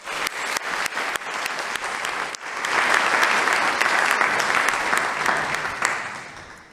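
A congregation at a Sunday morning church service applauds a band, with scattered claps building into sustained, dense clapping from a full room.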